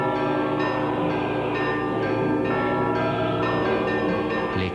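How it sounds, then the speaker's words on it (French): Many church bells of Moscow peal together in a dense, continuous clangor, loud and resonant, with bells struck every half second or so. "Les cloches de Moscou sonnent à toute volée"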